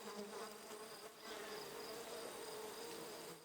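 Honeybees fan their wings at the hive entrance, a faint, steady droning hum with shifting tones, heard alone at a distance.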